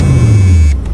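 A 1976 Chrysler New Yorker engine runs loud and close, its low rumble sagging steadily as it is shut off at the end of the moment.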